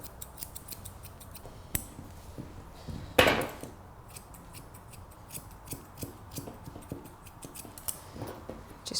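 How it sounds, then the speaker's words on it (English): Scissors trimming a Cockapoo's coat during grooming, giving a series of quick, light snips and clicks close by, with one sharper cut standing out, no talking. "Just trim off any excess that you can pull out."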